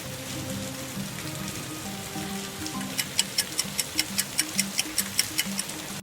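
Rain effect in an animated village story, a steady soft patter with a regular ticking of drops joining in the second half.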